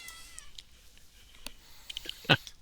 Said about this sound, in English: I just heard your cat.